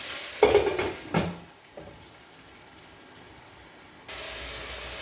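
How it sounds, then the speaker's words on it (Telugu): A lid set onto a cooking pot while a banana-flower curry steams. A couple of loud metallic clanks and a scrape come first, then a quiet stretch and a faint hiss. "ఇది ఇప్పుడు మూత పెట్టేసుకుందాం"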